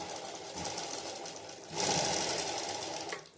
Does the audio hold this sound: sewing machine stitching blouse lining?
yes